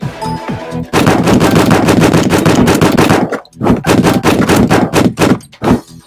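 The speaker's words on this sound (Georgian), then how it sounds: "უფრო მრავალფეროვანი გახდა აი ამ პისტოლეტის სროლა" Pistol fire in a video game rattles out in a long rapid continuous burst, then in separate loud shots and short bursts with brief gaps between them.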